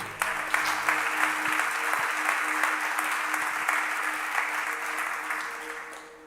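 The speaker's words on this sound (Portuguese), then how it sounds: "Você pode dar um aplauso ao Senhor por isso?" A church congregation applauds during a Portuguese-language sermon, steady dense clapping sustained for several seconds at moderate loudness, with a faint voice briefly audible beneath.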